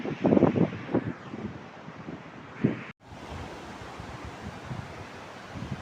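Sea waves at Muzhuppilangad beach in Kerala produce a broad, continuous wash of surf roughened by wind buffeting on the microphone, with a brief dropout midway.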